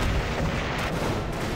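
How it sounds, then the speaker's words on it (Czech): Explosive barrels blow up in the video game Army Men: RTS, a dense, loud rumble of overlapping booms and blasts running without a break. "Rychle zničit ty explozivní sudy."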